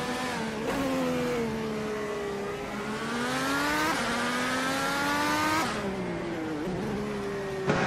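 Race cars roaring in a racing video game, with engines revving and shifting pitch continuously as several cars run close together, loud and steady throughout with no talking.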